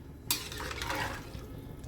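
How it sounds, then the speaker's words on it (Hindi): A spoon stirs salt through matar pulao in an open pressure cooker, giving one close, brief scraping swish with a soft wet rustle of rice and peas that fades out. "नमक को मिक्स कर दिया।"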